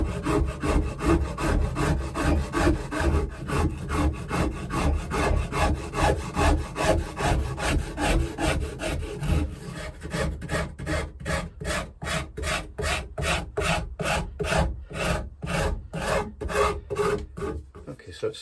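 Hand-carving facets into the wooden neck of a Fender Jaguar guitar: steady, close rasping strokes scrape back and forth continuously, becoming sharper and more distinctly rhythmic in the second half.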